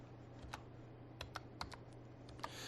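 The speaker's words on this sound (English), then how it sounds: "I'm going to type in Blur." Fingers tap a computer keyboard in a short burst of light, quick keystrokes, soft and close against a faint steady hum.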